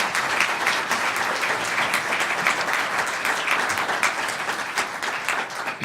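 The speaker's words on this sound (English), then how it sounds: "So let's give this distinguished panel a huge round of applause" A full hall at an evidence competition applauds a panel of judges, dense, sustained clapping that holds steady from start to finish without voices.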